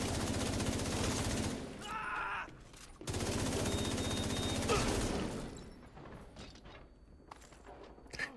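Automatic weapon fire from a shooter video game rattles in dense, loud bursts, pauses briefly, resumes, then gives way to quieter scattered shots and mechanical clicks.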